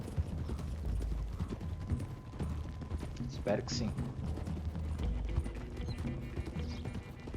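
Horse hooves clip-clop steadily across the ground in the Red Dead Redemption 2 video game, with a rider's party on the move, mixed under people talking and game ambience.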